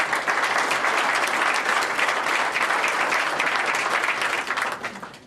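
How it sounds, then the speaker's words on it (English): An audience at a local board of supervisors candidate forum applauds, a dense, steady roar of many hands clapping that holds loud for several seconds before tapering off near the end. "let's have a round of applause for those folks"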